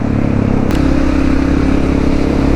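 Honda XR650L dual sport motorcycle engine idling loud and close, a steady thumping single-cylinder rumble with no change in pace.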